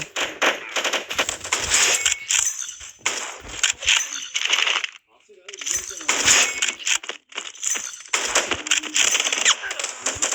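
Rapid bursts of gunfire from the Tactical Ops video game crackle loudly in long rattling volleys, separated by brief gaps, with a voice speaking over the shooting.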